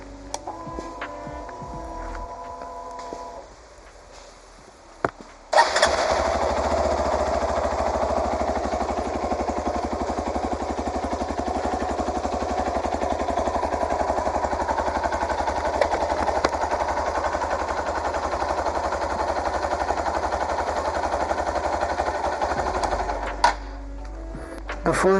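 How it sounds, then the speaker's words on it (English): A motorcycle exhaust idles and runs with a steady, loud, rapid mechanical throb that starts abruptly after a few seconds of quieter sound and holds evenly for about eighteen seconds before cutting off. "just hear the exhaust sound."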